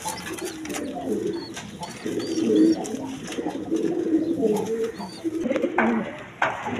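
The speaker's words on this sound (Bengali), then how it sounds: "এখানে এক পেয়ার ইম্পোর্টের কবুতর আছে" A pair of imported American pigeons coo softly nearby in repeated low, throaty bursts, with faint chirps and background noise.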